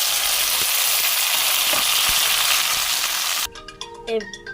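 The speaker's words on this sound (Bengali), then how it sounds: "এবার ফোড়নগুলো লাল হয়ে গেছে, যেই আদা টমেটো লঙ্কা বেটেছি দিয়ে দিলাম" Ground ginger, tomato and chili paste hitting hot oil spiced with bay leaves, cinnamon and cardamom, a loud steady sizzle that fills the pan for several seconds before dropping to quieter crackle.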